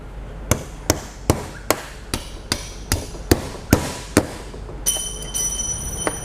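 A hammer strikes the back of a safe lock in a series of sharp metallic blows at a steady, roughly even rhythm, loud and close, followed by a faint ringing tone after the last hits.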